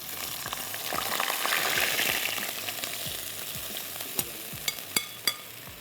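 Soaked semolina and milk cook in hot ghee for makhandi halwa, giving a steady, close sizzle and bubbling. A few sharp clinks of a spoon against the pan stand out near the end.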